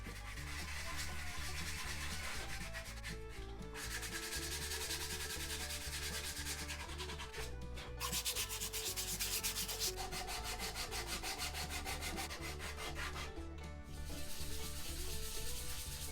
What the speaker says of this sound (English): I'll go ahead and start sanding down the caul, smoothing it out, making it pretty